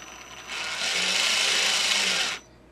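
An electric RC car motor and gear mesh spin up briefly on a bench, a loud whirring, slightly grinding whine lasting about two seconds before cutting off, close by and alone.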